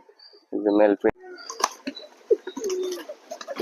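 Pigeons coo close by in a shed where the birds are being dosed for worms, a low throaty call rising over light background chatter, with people talking nearby.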